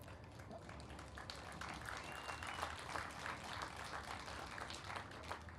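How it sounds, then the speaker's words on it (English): Lecture audience applause, a continuous dense patter of many hands clapping that stays fairly even and sounds faint and distant throughout. "thanks for that applause for Mother Earth."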